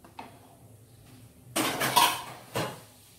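A lid set down over a cooking pot of radish sambar, giving a few metallic clatters: a light tap near the start, a louder clanking rattle partway through, then a final knock, close by with no talking.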